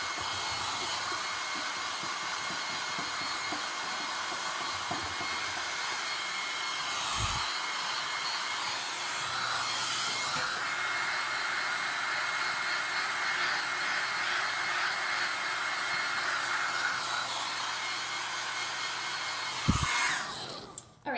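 A hair dryer blows steadily on a handmade craft piece with magnets inside, a constant airy whir holding close and loud throughout, with a couple of brief knocks near the end before it cuts off.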